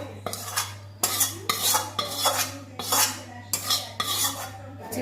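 Boiled potatoes being mixed with a prepared spice mix of chopped green chilli, coriander leaves and salt in a bowl, with repeated scraping and clinking strokes of a metal spoon in a steady rhythm and a constant low hum underneath.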